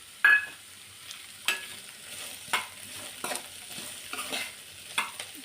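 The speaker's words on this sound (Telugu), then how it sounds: "రెండు బాగా ఫ్రై కావాలి." Garlic cloves and a lemon-sized lump of tamarind frying and being stirred in a pan, with a soft continuous sizzle broken by repeated scraping clatters of the spoon, close by and moderately loud, no talking.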